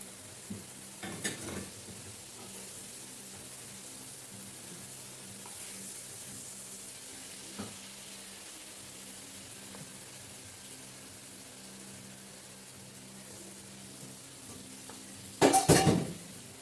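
Vegetables and head meat stir-fried in a pan, with faint low sizzling and occasional scrapes and clinks of a utensil against the pan, ending in a short louder burst of metallic clatter.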